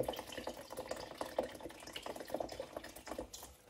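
Milk is poured into lumpy homemade crêpe batter, giving a close, uneven liquid splashing and trickling with irregular glugs and small drips, no voices.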